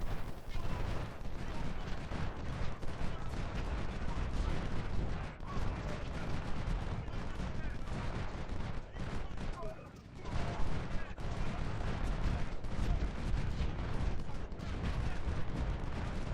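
Artillery and gunfire in an American Civil War strategy game, with dense continuous booms and volleys rolling nonstop at steady loudness and a brief dip near the middle. A voice speaks over the battle noise.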